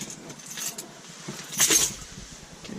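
A bunch of keys jangles and clinks briefly inside a Toyota Camry SE while being used to cut something out during a shift knob install, close and fairly faint, peaking in one short rattle.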